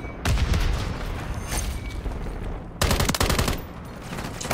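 Grenade explosions and gunfire in the game Call of Duty MW3, dense loud bursts of booms and rattling shots in two heavy waves, with no talk.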